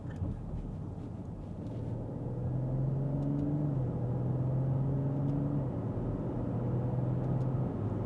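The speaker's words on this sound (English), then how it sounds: "So let's showcase you a little bit of acceleration from lower down in the rev ranges." BMW X5 45e SUV with a stage 1 ECU tune, OPF delete and modified exhaust pulling from low revs, a deep, steady rumble that rises in pitch and swells slightly as it accelerates, heard from outside at moderate distance.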